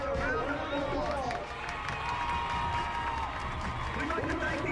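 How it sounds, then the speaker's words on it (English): A crowd in the stands at a high school homecoming football game applauds and cheers, a steady wash of clapping and crowd noise that holds for the whole stretch. "Let's give our homecoming corporate candidates a round of applause."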